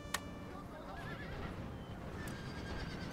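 A horse neighs in the Darthmod Ultimate Commander battle game, a sharp, wavering whinny over a dense background rumble of battlefield noise.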